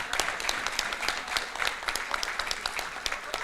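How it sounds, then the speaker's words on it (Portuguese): Audience at a formal event honouring a colleague, giving a sustained round of applause, dense clapping with crisp individual claps standing out, no one speaking over it. "pedir uma salva de palmas para a Ivânia"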